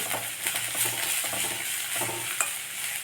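Radish and capsicum sautéing in a pan, a spoon stirring and scraping in short repeated strokes over a continuous oil sizzle.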